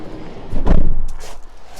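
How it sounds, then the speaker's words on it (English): A single heavy thud as the door of a Ford E-Transit electric van is pushed shut nearby, followed by quiet. "Let's just go around and shut the doors whilst we're here."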